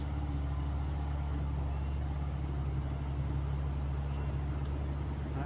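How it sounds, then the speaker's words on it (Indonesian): A Colt Diesel truck engine runs steadily under load as it pulls uphill, a loud, continuous low rumble with a constant drone and no obvious pauses or talk. "Langsung tancap gas."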